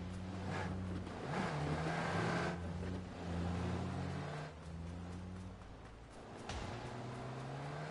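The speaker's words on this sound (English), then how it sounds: "I just heard cars." Several cars approaching, engines swelling and fading in passes over a low rumbling background, moderately distant and no voices.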